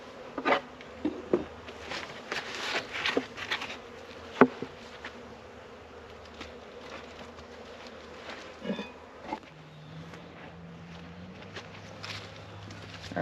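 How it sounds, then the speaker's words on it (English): Bees buzz steadily around a wooden hive being readied for winter, a continuous close drone broken by scattered soft knocks and rustles as the frames are handled and brushed clear. "I gotta clear the bees off of this."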